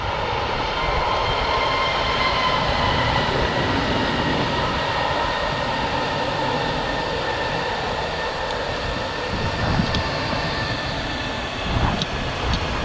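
Wizz Air jet airliner on the runway at Luton Airport, a loud steady engine roar that holds without a break and swells slightly near the end.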